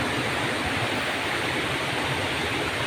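A river runs in a steady, full rush of flowing water, broadband and continuous like a small waterfall or rapids, close and unbroken with no voices.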